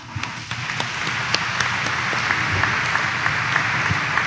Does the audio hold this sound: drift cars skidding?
no